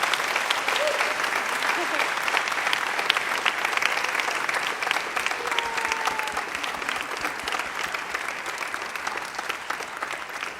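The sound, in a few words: audience applause for students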